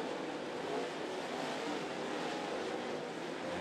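Race cars roaring down the front stretch at Volunteer Speedway, a dense, steady engine wash held at full volume for the whole stretch with no voices over it.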